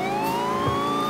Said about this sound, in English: Get your sirens on.